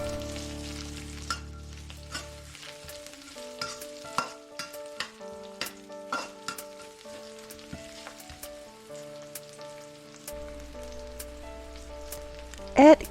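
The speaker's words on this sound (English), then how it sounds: "Add mushrooms and carrots. Stir fry for 2 minutes." Mushrooms and carrots stir-frying with garlic for chap chai mixed vegetables, a soft sizzle with frequent sharp spatula clacks and scrapes, under quiet background music.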